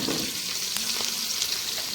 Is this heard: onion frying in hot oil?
yes